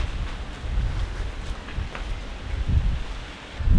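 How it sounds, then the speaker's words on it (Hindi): Strong wind blows outdoors in bad weather, making a steady, rough low rumble. The gusty buffeting and rustling hold throughout and swell louder near the end, with no talking. "बाहर मौसम बहुत ख़राब हो गया, मतलब हवा बहुत तेज़ चल रही है"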